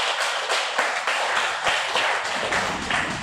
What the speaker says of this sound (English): Please, can we give her another round of applause?